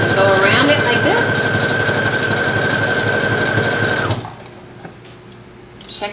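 A sewing machine runs steadily for about four seconds while stitching a dress seam along the fabric edge, a continuous whirring drone close by, then stops abruptly, leaving near silence with a few faint handling clicks.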